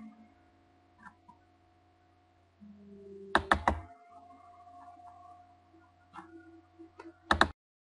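Computer keyboard typing during a kids' library-website search tutorial: two brief clusters of crisp keystroke clicks, one midway and one near the end, over a steady low electronic hum.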